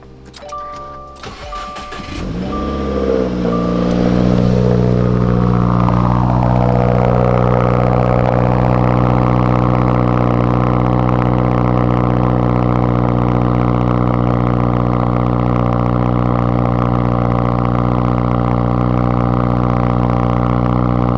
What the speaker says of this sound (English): So we're going to give you a nice cold start.